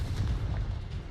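A deep rumbling blast from a Confringo explosive spell in the Hogwarts Legacy video game rolls out heavy and boomy, filling the short moment with low, sustained thunder.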